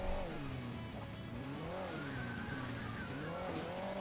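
Engine drone of a cartoon car in the mobile game Hill Climb Racing 2, steady and close, with wavering pitch sweeps as the car climbs a hill on poor tires, continuous for the whole stretch with no talk.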